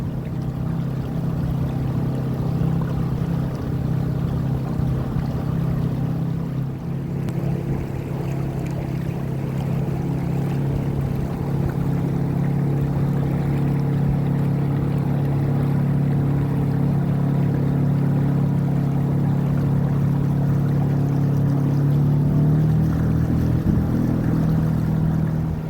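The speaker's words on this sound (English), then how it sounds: "I'm a little nervous about how the bigger boat will respond to the motor." An inflatable dinghy under outboard motor power, a loud steady engine drone with water rushing along the hull, continuous and close throughout.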